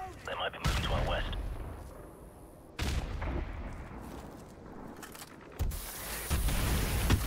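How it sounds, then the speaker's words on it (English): Mortar fire in the video game Call of Duty 4: Modern Warfare: several heavy booming impacts land at intervals, separated by a rumbling battlefield bed with a faint distant crackle. Talk or radio chatter from the game can be heard in the mix. "Oh, they got mortar fire."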